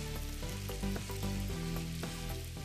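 Chana chaat made of chickpeas seasoned with chaat masala and salt fries in a pan, sizzling in a steady, close crackle with faint stirring knocks throughout.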